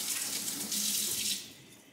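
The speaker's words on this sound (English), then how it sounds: "I'm going to just wash my hands." Tap water runs steadily into a sink during handwashing in a home kitchen, a close, bright hiss that swells midway and then eases off, with no talking.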